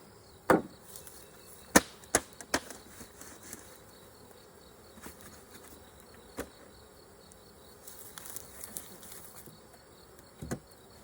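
Honeybees hum steadily around an opened backyard hive, and sharp wooden knocks and clicks from the hive parts being handled punctuate the buzz.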